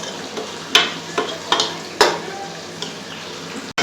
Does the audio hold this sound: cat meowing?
no